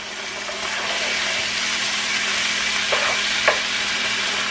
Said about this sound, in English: It's bubbling.